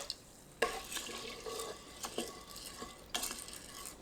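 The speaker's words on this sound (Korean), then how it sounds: "전기 압력밥솥에 쌀 400g, 국간장 한 큰술, 물 400ml 넣고 섞어주세요." A spoon stirs rice, soup soy sauce and water inside an electric pressure cooker pot, making a few soft scraping and clinking strokes, close and quiet.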